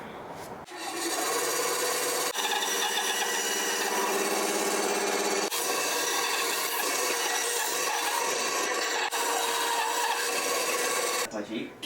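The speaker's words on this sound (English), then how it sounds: "I'm going to go to the bandsaw and cut this thing out." A bandsaw cuts through a wooden slingshot fork taken from a big tree fork, giving a loud, steady, close rasping whine that runs for about eleven seconds with a few brief dips, and no talking over it.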